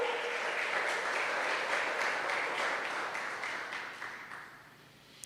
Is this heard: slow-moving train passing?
no